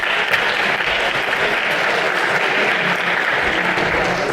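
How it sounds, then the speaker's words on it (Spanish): Steady, dense audience applause at a round-table conference session, a continuous wash of many hands clapping at even loudness for several seconds with no pauses. "Muchas gracias a todos y un fuerte aplauso."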